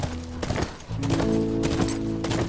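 Horse hooves clip-clop in The Last of Us video game, a steady moderately loud trot under sustained tonal game music, with no talking.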